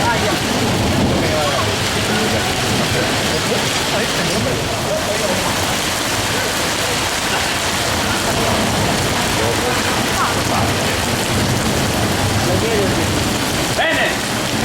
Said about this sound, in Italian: Sotto la grandine, sotto la pioggia